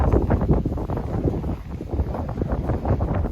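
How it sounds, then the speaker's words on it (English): Strong gusty wind buffets the microphone outdoors in a spring garden, roaring and rumbling continuously with surging bursts. "it is so windy, just knocked over my cage"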